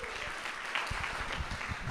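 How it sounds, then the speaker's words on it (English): An outdoor crowd at a Diwali event in Trafalgar Square claps steadily, a dense wash of applause that starts softly and swells, with scattered sharper hand claps throughout. "I think they deserve a big round of applause."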